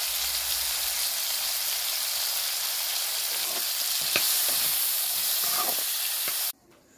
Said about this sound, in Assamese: এইখিনি অকণমান লৰাই দি এতিয়া দিছোঁ নিমখ, লগতে দিছোঁ হালধি গুড়ি